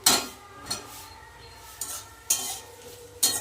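Thinly sliced potatoes fry with reddened onions in a pan, a steady close sizzle broken by several loud scraping stirs of a spatula against the metal.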